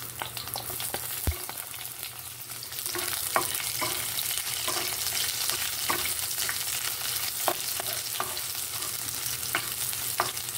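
Chopped onion sautéing in a pan for chicken tinola, a steady close sizzle with scattered crackles and spatula scrapes and stirring clicks over about ten seconds, no voices.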